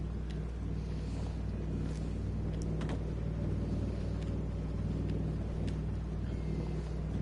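A boat in Fallout 4 near the Far Harbor dock gives a steady low engine rumble and droning hum that stays constant throughout, with faint wind and no talking.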